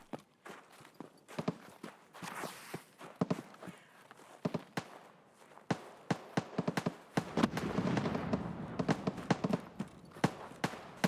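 Gunfire from a firefight in Escape From Tarkov, heard from a distance as scattered sharp cracks and short bursts, some faint and some louder, with a denser stretch toward the end.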